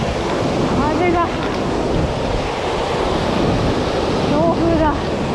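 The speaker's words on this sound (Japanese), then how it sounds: "強風だ。" Strong wind roars at a mountain stream, a loud constant rush over running water, with faint voices briefly audible under it.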